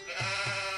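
Bleating goat calls voiced by people imitating a herd of goats, a few wavering bleats in quick succession, close and fairly loud.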